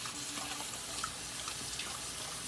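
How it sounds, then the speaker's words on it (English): Squash flowers being rinsed in a sink of water, a steady close running-water wash with light splashing throughout and no talking. "you're just gonna wash them. You just keep going like this in the water"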